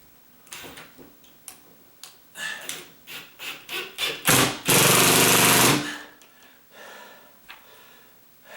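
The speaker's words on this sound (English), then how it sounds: "This is one of those ratcheted drills, and so it's supposed to make that noise." A ratcheting drill driving a screw into a pre-drilled hole during a ceiling fan installation, giving a quickening series of loud clicks that merges into a steady whir for about a second, then slows back to scattered clicks.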